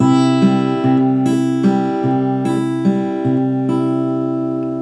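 An acoustic guitar plays a steady fingerpicked pattern, individual strings plucked in a repeating rhythm with notes ringing over one another, close and clear.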